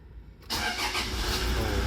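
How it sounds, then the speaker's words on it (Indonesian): A 2014-2015 Toyota Fortuner VNT TRD diesel with automatic transmission starts up, a brief quiet lull then the engine catching abruptly into a loud, steady diesel rumble close by. "Kita starter ya, kita starter."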